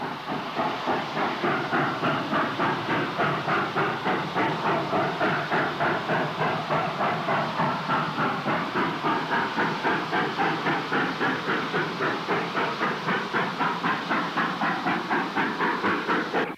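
LMS steam locomotive 48212 labours up a steep gradient, its exhaust beating in a steady, rapid rhythm of chuffs over continuous hiss and rumble, loud and close throughout.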